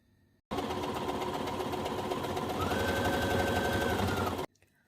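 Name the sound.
sewing machine stitching around a jersey sleeve armhole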